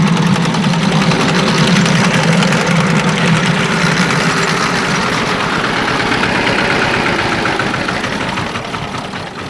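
A homemade mini tractor engine, built to drive a small pumpkin harvester, runs steadily and loudly up close with a rough, knocking idle and vibration throughout, easing slightly at the end.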